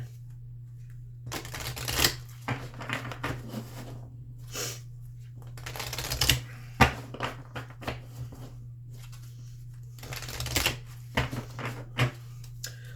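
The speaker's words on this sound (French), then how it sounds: "On va aller chercher quelques cartes ici avec l'oracle de Ganesh." A deck of Ganesh oracle cards is shuffled in several quick, papery bursts spread across the stretch, close and fairly clear, over a constant low electrical hum.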